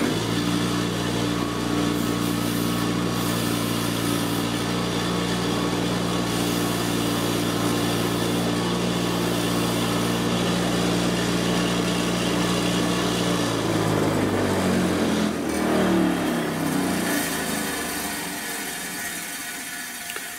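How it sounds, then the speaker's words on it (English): A grinding wheel power tool, used like a Dremel, frays a denim seam. The motor gives a steady, high-pitched whine with a rough grinding edge for about fourteen seconds, then winds down and fades. "a grinding wheel is good, just like a Dremel is, to do seams"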